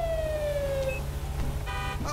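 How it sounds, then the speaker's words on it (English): A police car siren wails in the LSPDFR video game, a loud sweeping tone that falls and then cuts out, followed by short electronic chirps over a steady engine drone. "Let me go ahead and shut my siren off here."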